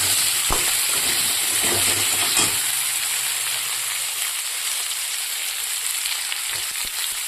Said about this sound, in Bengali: হালকা ভেজে নিই তো সবজিগুলো